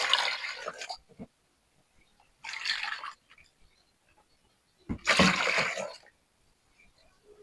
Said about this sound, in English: So I will agitate this water so that it can mix properly.